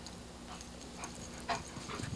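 Puppy whimpering softly, a few faint, brief whines and small breathy sounds over a low steady background.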